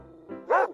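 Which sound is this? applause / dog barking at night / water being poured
dog barking at night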